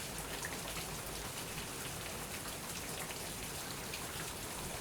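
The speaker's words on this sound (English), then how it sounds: "the sound of the rain drumming on the glass roof in that room" Rain drums steadily on a glass roof over a room in Australia, a dense, even patter of drops that holds at the same level throughout with no thunder or voices.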